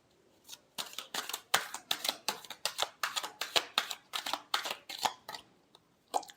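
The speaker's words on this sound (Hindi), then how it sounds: "Last shuffle." A deck of tarot cards is shuffled close up in a quiet room: a steady run of quick, crisp papery riffles and slaps, about two or three per second, with a brief pause near the end.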